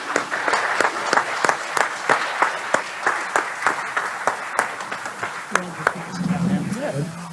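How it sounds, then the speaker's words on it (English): Applause from an audience at a county commissioners and auditor-treasurer candidate forum, with sharp individual claps prominent in a modest crowd, and a voice beginning to speak as it winds down. "Let's have a nice round of applause for everybody on the stage."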